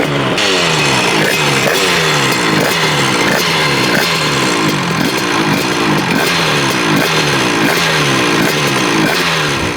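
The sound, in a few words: Rieju MRT Pro 100cc motorcycle engine running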